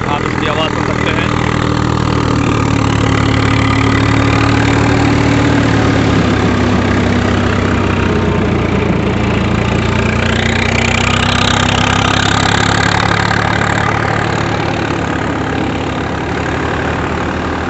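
Swaraj 744 XT tractor engine running a thresher with a damp load, a loud steady mechanical drone and whir that holds constant throughout with slight shifts in pitch.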